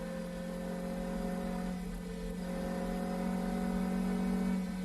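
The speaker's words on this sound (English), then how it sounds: "Listen to that engine screaming away. The 3-litre V8 working hard." Ferrari 3-litre V8 race car engine screaming at high revs near 130 mph, a steady loud harmonic drone that climbs slightly toward the end, with no talk.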